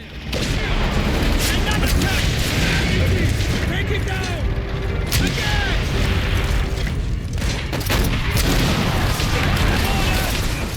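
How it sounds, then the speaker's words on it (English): Tank explosions and rocket fire in Call of Duty: World at War fill a dense, loud mix of booms, rumbling blasts and mechanical clatter, with game voices talking amid the battle noise. "I get to rocket duel a few tanks here"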